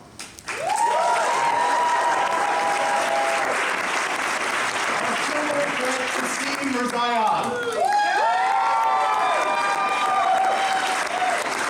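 A Broadway theatre audience applauds loudly and steadily at the opening-night curtain call of The Kite Runner, with cheers and whoops rising over the clapping for about eleven seconds.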